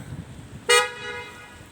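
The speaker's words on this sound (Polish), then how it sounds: "a to na niego trąbi kierowca" A single short car horn toot aimed at a pedestrian walking on the road sounds clearly over faint background noise, brief and moderately close.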